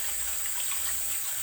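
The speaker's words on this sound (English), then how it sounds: "And you just wash your dishes with the bar soap." Tap water runs steadily as dishes are washed by hand with bar soap, a constant close rushing splash with no pauses.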